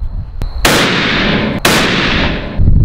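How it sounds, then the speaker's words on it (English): Two loud, close rifle shots from a 300 Win Mag at an outdoor range, each a sharp crack followed by a long rolling echo, with a third blast beginning at the end. "So we just shot 5 shots again."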